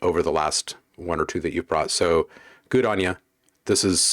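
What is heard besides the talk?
No everyday noises stand out.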